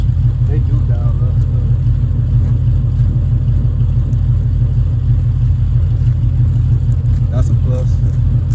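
A Ford Mustang from the 2010–2012 model years idles steadily just after a cold start, its low engine rumble continuous and fairly loud throughout.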